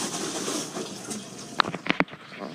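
Water in an aquaponics system runs through a 1.25 inch return pipe down into a sump tank, giving a steady close rushing and splashing with a few sharper gurgles and drips near the end.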